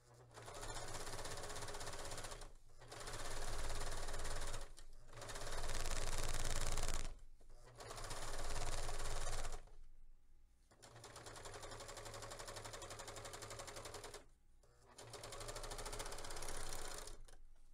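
A sewing machine stitches baby overalls in steady whirring runs of a few seconds each, separated by short pauses, close and fairly quiet with no talking.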